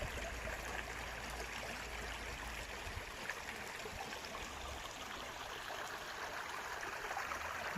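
A small woodland creek flows and trickles steadily at night, a soft, even wash of water heard alone without any voices.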